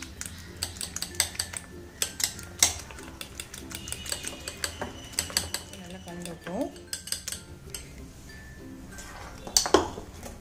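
Clinking of a utensil against a bowl as vermicelli is mixed into beaten egg for an omelette, a run of light, irregular taps and scrapes close by with no talk.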